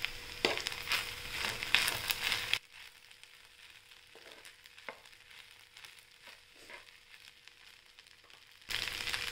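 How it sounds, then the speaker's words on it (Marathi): Sabudana khichdi is stirred in a pan, with bursts of scraping and sizzle at the start and end and a few faint scrapes between over a quiet background. "आणि हलवून घेऊया।"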